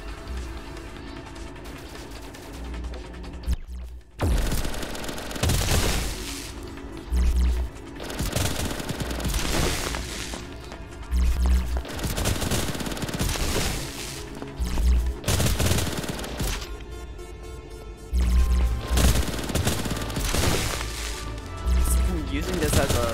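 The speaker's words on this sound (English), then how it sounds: "Using this as a machine gun bow is like an interesting combination." A machine-gun bow firing in the VR game Boiling Steel, with loud bursts of rapid shots in several volleys and a pause of about a second near the four-second mark, close, mixed with other game noise and heard under a person talking.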